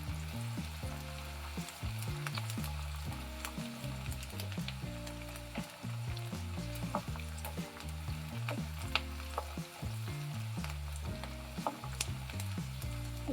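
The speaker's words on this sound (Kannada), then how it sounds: "ಗೋಲ್ಡನ್ ಬ್ರೌನ್ ಬರೋವರೆಗೂ ಫ್ರೈ ಮಾಡ್ಕೊಳ್ಳಿ ಫ್ರೆಂಡ್ಸ್ ಈರುಳ್ಳಿನ." Onions frying in a pan for a stuffed brinjal curry, a steady continuous sizzle with scattered crackles and pops throughout, close and moderately loud with no talking.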